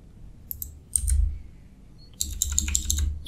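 Two short bursts of typing on a computer keyboard, a few crisp close key clicks each, separated by a quiet pause with faint background hum.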